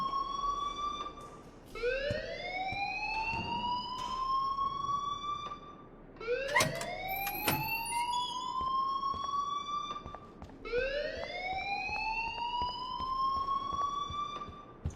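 A school fire alarm in Life is Strange Remastered wails in three rising sweeps, each climbing and then holding a loud, steady tone, with brief dips between cycles and faint background noise.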